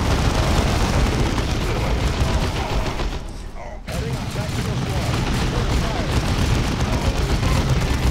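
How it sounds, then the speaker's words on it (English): A grenade blast amid a Dawn of War 2 battle between Space Marines and orcs, heard as a loud, continuous roar of explosions and gunfire with a brief lull midway, then the din resumes. "Orcs, please have a grenade."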